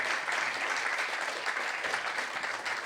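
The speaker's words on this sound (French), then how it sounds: "Un tonnerre d'applaudissements pour eux, s'il vous plaît." A live talk audience breaks into loud, sustained applause, many hands clapping densely and evenly for a few seconds.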